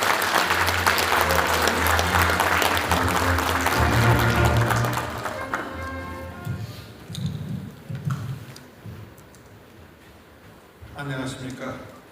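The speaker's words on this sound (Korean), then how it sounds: "여러분 따뜻한 박수로 무대 위로 모시겠습니다." Audience applause at a medical center opening ceremony in a convention hall, a full burst of clapping mixed with talk that fades after a few seconds, leaving a quieter room before voices and a little clapping return.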